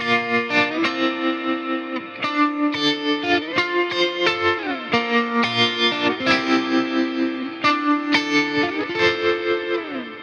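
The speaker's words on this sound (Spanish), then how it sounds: "Y el coro pasa al trémolo y suena así." A guitar through a pedalboard tremolo effect plays a reggaeton song section, its chords pulsing in a fast regular throb that chops the sustained notes, loud and steady with no talking.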